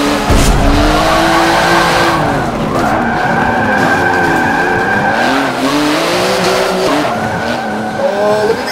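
A car drifting through streets in Forza Motorsport 7, with loud sustained tire squeal and skidding over a revving engine that rises and falls continuously and close up, with no talk.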